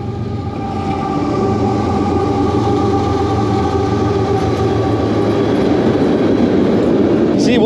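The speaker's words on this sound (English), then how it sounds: "Oh, here comes that train again." A train rumbles past at a steady, loud level for several seconds, a continuous rolling roar with faint squeals and rail clatter, heard near a river spot used for magnet fishing.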